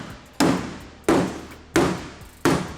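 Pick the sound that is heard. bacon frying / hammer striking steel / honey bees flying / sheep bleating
hammer striking steel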